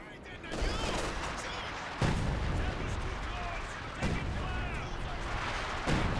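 Artillery fire in the Company of Heroes 2 strategy game, a series of heavy booming blasts arriving about every two seconds over a dense rumbling battle bed, with a voice talking over it.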